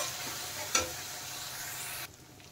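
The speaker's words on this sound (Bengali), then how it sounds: "জলটা দেওয়ার পরে মশলাটা এখন ভালোভাবে কষিয়ে নিতে হবে" Spice paste with a splash of water stir-fries in a pan for a jackfruit seed curry, a steady close hiss with one sharp utensil tap early on before the sizzle cuts down near the end.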